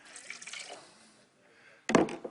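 Water pours into a blender of bananas, strawberries, peaches, chocolate and almond milk in a short splashing trickle, close by, followed after a pause by a louder burst of liquid sound.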